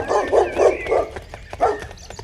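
A dog barks in a quick run of about five close, loud woofs, followed after a short pause by one more bark, with no talking.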